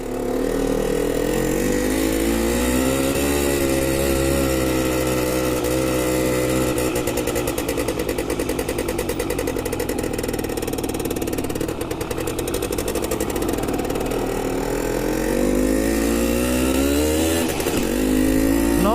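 A 1990 Simson S51 two-stroke moped engine buzzes loudly and continuously while riding, its pitch rising and falling with the throttle and gear changes.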